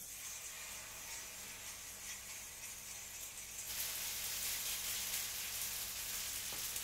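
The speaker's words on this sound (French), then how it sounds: "tomate, oignon et ginger, purée d'ail et un peu de sel dans ma poêle" Blended tomato, onion, ginger, garlic puree and salt poured into a frying pan, a faint, even hiss of sizzling that grows louder and brighter partway through and then holds steady.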